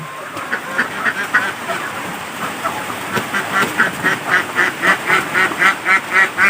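Ducks quack in rapid, rhythmic bursts that grow steadier and louder, a flock calling together nearby at feeding time in the rain.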